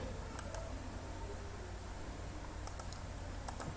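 Typing on a computer keyboard while entering data into a Microsoft Excel workbook, heard as faint scattered key clicks in short bursts over steady low background hiss, with no talking.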